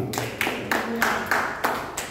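Rhythmic clapping from a church congregation after a sermon, a steady series of sharp broadband hand claps about every third of a second, moderately loud and close, with no talk over it.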